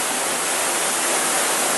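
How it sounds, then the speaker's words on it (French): Water spills over an overshot mill wheel roughly 5.4 m across, dropping about 7 m at the old Courtelevant mill, a steady, loud, broadband rush that holds continuous and close throughout with no voices. "L'eau arrive au-dessus, on a environ une chute de 7 mètres."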